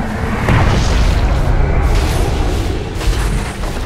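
Barracks being destroyed in Dota 2, producing a loud, deep explosion rumble that holds steady for about four seconds.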